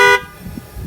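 Chrysler 300 car alarm set off by a touchscreen key fob, giving a single loud horn honk lasting a fraction of a second before cutting off to quiet wind noise outdoors.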